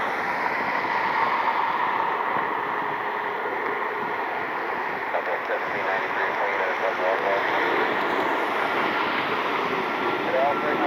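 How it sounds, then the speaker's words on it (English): Southwest Airlines Boeing 737 MAX jet heading for Denver, a steady broadband roar of engine noise that holds level throughout, with faint speech-like murmurs briefly in the background. "Southwest Airlines 2123 should be a 737 MAX on its way to Denver."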